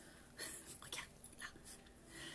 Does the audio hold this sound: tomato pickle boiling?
no